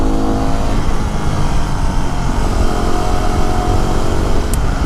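A Yamaha WR250R supermoto motorcycle is ridden up Mt. Eden, its engine loud and close with a continuous revving roar under wind noise.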